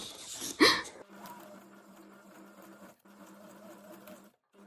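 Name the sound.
sewing machine embroidering a leaf shape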